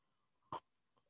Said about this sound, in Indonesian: agak tersendat ini suaranya. Ada batuk-batuk.